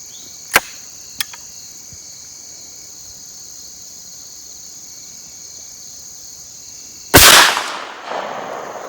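A shotgun fires a .357 Magnum bullet loaded as a .410 slug during outdoor bench rest testing: a single sharp, loud blast near the end, after a quiet stretch with faint clicks and a steady high insect buzz.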